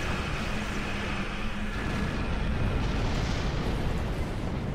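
Continuous rumbling blasts and booming torpedo explosions in Star Trek Online fill the clip, dense and loud throughout with no pauses, like a barrage of distant detonations.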